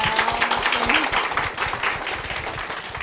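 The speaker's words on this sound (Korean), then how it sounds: "박수 좀 한번 드릴까 봐요." A church congregation claps together in a steady, moderately loud burst of applause that fills the whole stretch, with a faint voice briefly audible underneath.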